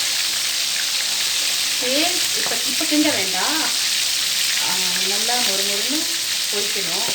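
Hot oil sizzles and crackles steadily and loudly as fish fries crisp in a hot pan, while a voice talks faintly beneath the frying hiss.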